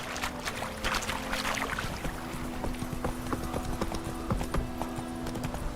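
Horse hooves clip-clopping at a steady gait in The Witcher 3, a regular rhythm of close hoof hits over a low game ambience with brief tonal hums.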